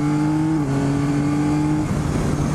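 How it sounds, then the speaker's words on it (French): A 2022 Yamaha Tracer 9 GT three-cylinder engine pulls hard with a close, steady exhaust and airbox drone. The pitch dips briefly partway through, then the tone roughens near the end. "pouvoir entendre le bruit de son échappement et de sa boîte à air"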